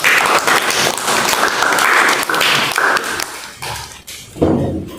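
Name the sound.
audience applause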